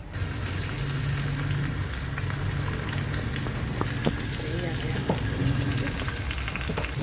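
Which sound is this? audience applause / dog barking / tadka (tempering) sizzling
tadka (tempering) sizzling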